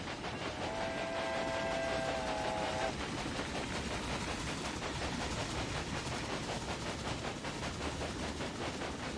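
A train rolls steadily in the Railway Empire video game, a continuous rumbling clatter with a sustained horn or whistle tone near the start that fades out, leaving the steady rhythmic running noise alone.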